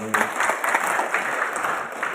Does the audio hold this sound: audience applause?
yes